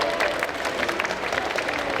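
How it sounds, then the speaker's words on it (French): Convention audience at a Sunday cosplay contest and catwalk clapping steadily, a dense wash of applause from a crowd filling the room, with some murmuring underneath. "Vous savez applaudir?"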